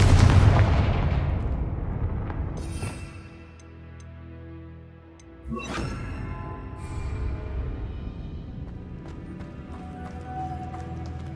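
A Confringo blasting spell in Hogwarts Legacy goes off with a loud booming blast at the start that decays, then a second sharp burst mid-clip followed by rumbling aftermath.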